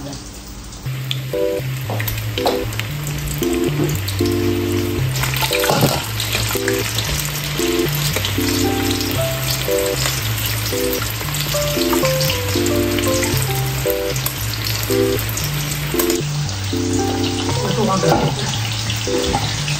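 Lumpia shanghai spring rolls deep fry in hot oil with a loud, continuous crackling sizzle throughout, while background music plays underneath.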